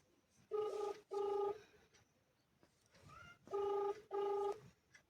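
Ringback tone of an outgoing mobile call connecting from a rural area: two pairs of steady electronic ring bursts, each about half a second, separated by a pause, clear and close with faint background.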